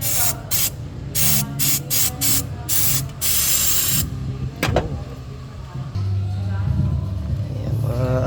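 Cleaner sprays in a rapid series of short hissing bursts onto the EGR valve of a Toyota Innova 2.8 diesel, then one longer spray, close and loud, with someone talking briefly afterward.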